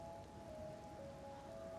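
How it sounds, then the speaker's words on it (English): Steady rain falls outside, a soft continuous hiss of drops on surfaces with no voices, fairly quiet and even throughout. "And she walks out into the rain."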